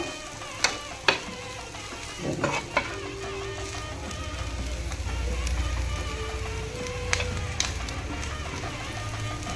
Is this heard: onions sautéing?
yes